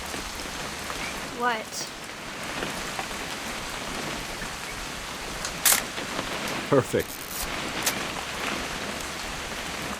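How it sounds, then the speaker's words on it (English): Steady rain pours on surfaces in the video game What Remains of Edith Finch, a constant hiss of drops close around, with brief voices and a few knocks and clicks over it. "It's gonna rain the whole weekend"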